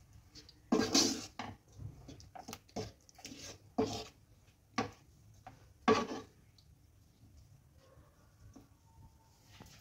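Spoon scraping and clanking in a pan while methi malai chicken is stirred, with irregular sharp metallic knocks and scrapes, moderately close, and quiet gaps between strokes.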